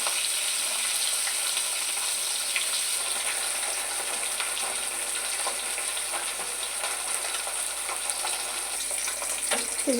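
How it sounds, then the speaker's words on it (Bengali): Continuous bright sizzling and crackling of bhola fish frying in hot oil, steady and close, with no talking. "এর মধ্যে ভোলা মাছ একে একে দিয়ে দেবো। লাল লাল করে ভেজে নেব।"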